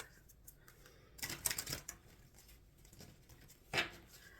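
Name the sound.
handling a large tarot card deck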